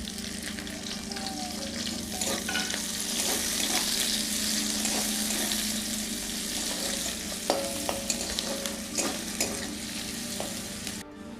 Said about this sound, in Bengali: ফোড়নটা ভাজা হয়ে গেছে, দিয়ে দিচ্ছি পেঁয়াজ কুচি